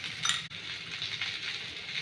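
Cumin seeds sizzle in hot oil in a kadhai with a continuous bright crackle, plus a brief clink near the start.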